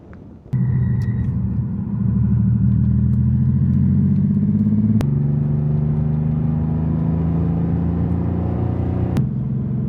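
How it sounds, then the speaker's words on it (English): Steady low engine and exhaust drone from a Porsche 964 cruising at 70 mph on a runway, with road rumble and whir continuing loudly throughout. "in case you're wondering what our exhaust sounds like, we're currently doing 70 miles an hour"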